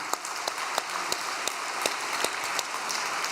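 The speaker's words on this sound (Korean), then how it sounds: "박수 한번 올려드립시다." A gathered audience gives a quieter round of applause, with scattered individual claps standing out in a fairly sparse, steady patter.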